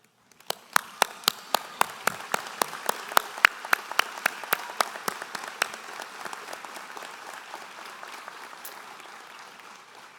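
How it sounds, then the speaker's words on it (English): A graduation audience at a high school commencement applauds, with sharp, distinct claps at first, then a dense, even round of clapping that slowly fades. "Graduates, please rise and join me in a round of applause honoring the unwavering dedication of your loved ones"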